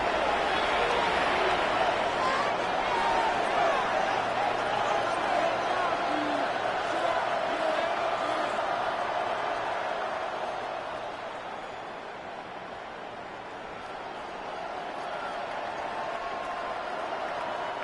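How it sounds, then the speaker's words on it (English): A home crowd roars at a Browns–Falcons football game, a dense sustained cheer that dips slightly and then swells again, filling the stadium. "Here comes the crowd swell."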